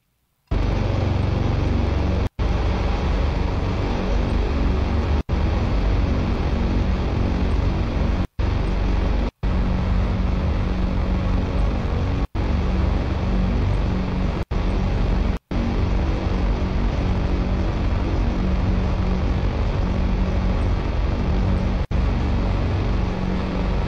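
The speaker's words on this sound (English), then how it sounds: "this is like pure drone, right? Pure drone music for an hour" Pure drone metal by Oscillotron from the album Oblivion, a Swedish release: a dense, sustained low-heavy wall of sound droning on steadily, broken only by a few abrupt momentary dropouts.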